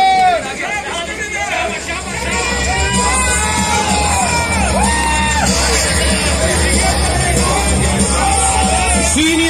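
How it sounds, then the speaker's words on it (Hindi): At a Mr. Karachi bodybuilding competition, the audience cheers and whoops loudly for the Senior Mr. Karachi 2020 winner, a dense, sustained crowd roar of shouts and chatter with a voice over it. "बहुत सारी तालियां 2020 सीनियर मिस्टर कराची नवेद शाह के लिए"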